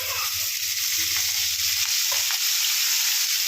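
Potatoes frying in hot oil in a home kitchen, a steady close broadband sizzle that continues without pause, with a low hum underneath and no talking.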